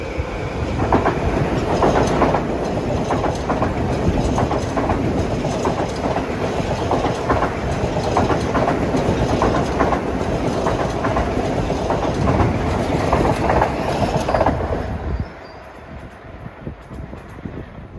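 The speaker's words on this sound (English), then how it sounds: "Here's 2062 Grand Central to Ronkonkoma, 422. It's one of their express trains out there." An LIRR express train, 2062 from Grand Central to Ronkonkoma, roars past Woodside station in the evening rush, a loud, close, steady rumble with clattering wheels that cuts off abruptly near the end, leaving quieter ambience.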